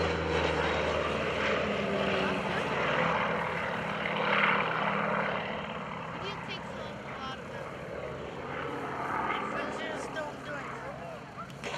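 An aerobatic propeller airplane with a 410-horsepower engine drones steadily overhead at an airshow, its engine note rising and falling as it maneuvers through knife-edge passes, with an announcer talking over it.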